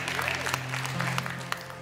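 An audience at a gathering of moms and dads claps in a soft, steady patter that runs throughout, with a voice speaking over it.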